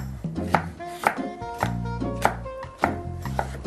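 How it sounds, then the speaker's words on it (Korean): A knife julienning radish on a cutting board gives sharp, rhythmic chopping strikes about every half second, close and clear, with no voices. "요렇게 해가지고 채쳐주시면 돼요."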